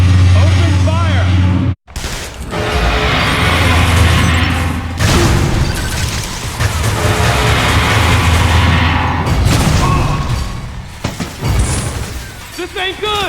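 Gunfire and explosions in Metroid Other M rumble with heavy booms and blasts, loud and sustained, mixed with game music and voices talking throughout.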